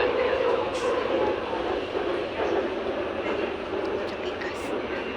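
A train rumbles past in a steady, broad roar that fills the whole stretch, close and loud, with a faint high squeal near the end.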